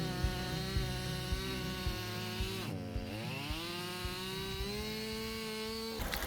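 A chainsaw cuts through logs outdoors, its engine whining loudly and steadily, dipping briefly as it bogs in the wood, then revving back up and holding high before a final burst.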